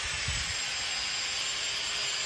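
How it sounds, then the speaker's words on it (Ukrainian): A power sander strips sun-faded, weathered paint from the wooden siding of a house, giving a continuous loud, close hiss and whir that never lets up. "І от відбувається процес шліфовки."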